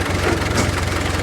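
A 1917 International Motor Truck Model F engine shifting into second gear, its low rhythmic chugging close and steady as revs come down briefly.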